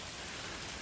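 Heavy rain falling in the UK, a dense, steady hiss of drops across a wide band, constant and fairly soft, with no talking during this short stretch.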